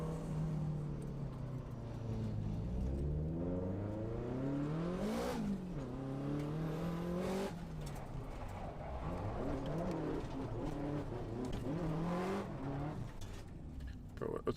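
A race car engine in Assetto Corsa revs and shifts up and down in rising and falling sweeps. A voice talks over it throughout.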